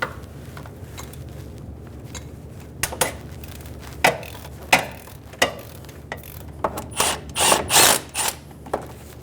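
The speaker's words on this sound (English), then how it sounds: "Using a 12mm socket, we're going to remove the bolt on the bottom of the tensioner." A 12mm socket on a ratchet backs out the bottom tensioner bolt of a 2003-2008 Honda Pilot, giving irregular clicking and scraping bursts that grow busier toward the end, heard alone.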